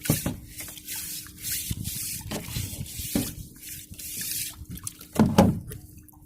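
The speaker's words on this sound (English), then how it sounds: "Literally I'm just doing light little scrubs, letting it soak, doing some more scrubs, seeing what we can expose." A large fossil being scrubbed lightly while it soaks, with splashing, trickling water and soft brushing strokes in short bursts close by.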